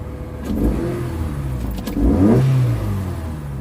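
A cold car engine that has been sitting for a few hours, revved lightly outdoors in two short blips, the second stronger and rising, between a steady idle. No talking.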